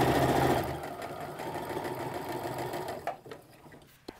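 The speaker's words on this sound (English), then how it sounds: "feed a bunch of these guys through the sewing machine with that 1/2 inch stitch" A sewing machine runs steadily, stitching fabric strips for an apron waistband with a half-inch stitch, a dense continuous whir that stops abruptly near the end, followed by a couple of faint handling clicks.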